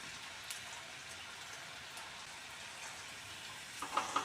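Jackfruit seed snacks and curry leaves frying in hot oil, a steady quiet sizzle and crackle throughout with a few sharper pops near the end.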